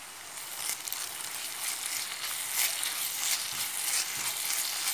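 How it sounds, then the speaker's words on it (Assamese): Ginger garlic paste dropped into a pan of browned onions for a jackfruit curry gives a bright, steady, close sizzle that hisses evenly for a few seconds with slight swells. "আদা আৰু নহৰু বটা দি দিলোঁ"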